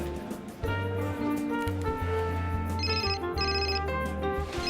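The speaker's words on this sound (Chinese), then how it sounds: "不好意思啊，接个电话。" Mobile phone ringtone for an incoming call, a melodic ringing pattern playing steadily over a sustained low musical bed in a TV drama scene, with no talking.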